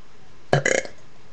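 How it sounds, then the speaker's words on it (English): A short, loud burp erupts and breaks into a quick series of croaky pulses, followed by a brief start of another burp at the end, with no talking. "I'm going to try to burp even better"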